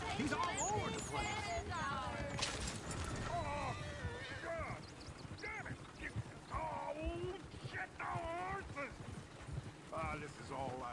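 Horse hooves clip-clopping in the video game Red Dead Redemption 2, a rhythmic clatter under near-constant character dialogue, with a faint whinny.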